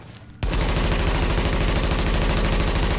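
An automatic rifle fitted with a rate-of-fire magazine in The Division fires a loud, unbroken rapid burst that starts abruptly and runs to the end.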